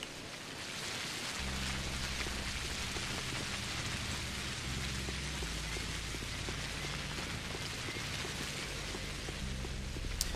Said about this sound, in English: just record, like, the sound of the rain as well